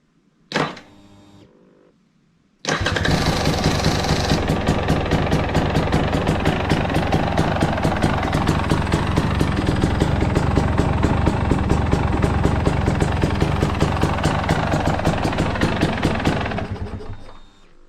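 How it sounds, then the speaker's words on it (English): KTM 250 EXC two-stroke dirt bike: a short electric starter whir, then the engine catches and runs loud and close with a steady, rapid crackling idle for about fifteen seconds before cutting off. "this bike always starts the same every time"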